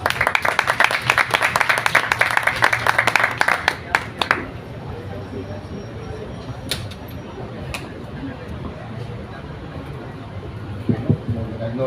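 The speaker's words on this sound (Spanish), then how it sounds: "un aplauso para abrir el espacio" Audience applause at a book presentation during a literary fair, a dense burst of clapping for about four seconds that then dies away into quiet room murmur.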